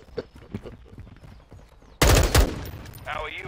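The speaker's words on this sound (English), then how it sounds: "I'm taking enemy fire!" Video game gunfire breaks out abruptly as a loud burst of rapid shots, following a stretch of quieter clicking and background game noise.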